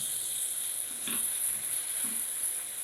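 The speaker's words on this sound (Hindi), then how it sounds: "कीमा भी हम मीडियम फ्लेम पे भूनेंगे।" Minced mutton keema fries in a karahi over a medium flame, a soft continuous sizzle with faint stirring scrapes now and then, steady and fairly quiet.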